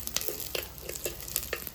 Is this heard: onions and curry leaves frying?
yes